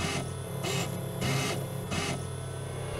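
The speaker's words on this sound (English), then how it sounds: "Sega used one cheap laser assembly in this thing because even in perfect condition, the laser really is that loud" A Sega Dreamcast's cheap laser assembly reads a disc with a loud mechanical whir, pulsing in repeated bursts about every half second over a constant electronic hum, close up and with no voices.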